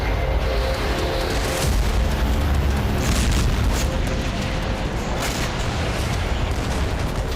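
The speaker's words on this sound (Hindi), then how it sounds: "हर घंटे नया बारूदी धमाका हो रहा है।" A sustained, loud rumbling roar of explosions with heavy low booms and scattered cracks, continuous throughout, no voices.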